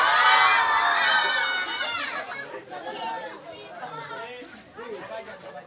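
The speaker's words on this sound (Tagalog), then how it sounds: "Ang lakas ng crowd dito, salamat ha." A loud crowd at a rap battle erupts in cheering and shouting that peaks at the start, then fades into chatter with further bursts of yelling.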